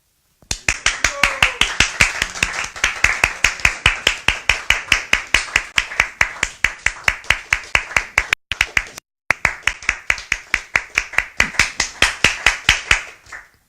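A group claps in steady rhythmic unison after a reading from Srimad Bhagavatam, loud and even at roughly three claps a second, with one brief pause partway through before the beat resumes.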